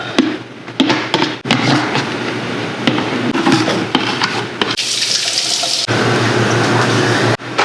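Liquid running loudly from a tap into squeezy bottles, a continuous close rushing flow with a few abrupt stops and restarts, no one speaking.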